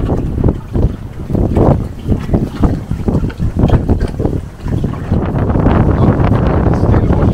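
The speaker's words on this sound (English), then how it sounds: "And it's quite windy. It's gusting 30 now" Strong Arctic wind gusting around 30 buffets the microphone on a sailing boat in uneven gusts, roaring and rushing loudly with a choppy, turbulent texture and no clear speech.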